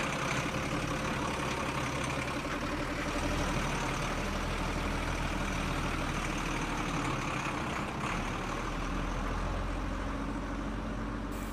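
A Hino truck engine idles with a steady, low, continuous rumble that holds even throughout, close by and unaccompanied by voices.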